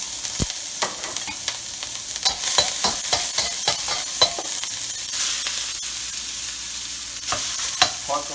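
Ginger and garlic hit hot oil in a heated wok, sizzling steadily while a utensil scrapes and taps the pan in an irregular run of close stirring clicks.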